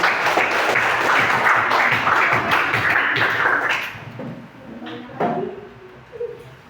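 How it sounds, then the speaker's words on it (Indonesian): A classroom audience applauds a student group after their presentation, a dense loud burst of clapping for several seconds that cuts off abruptly, followed by a few scattered claps and faint room noise. "kita kasih tepuk tangan untuk kelompok"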